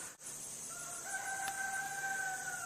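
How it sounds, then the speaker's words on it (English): A rooster crows from down the road in a quiet rural setting, one drawn-out call that rises and holds, faint and distant over soft background hiss. "there's a rooster down the road making noise"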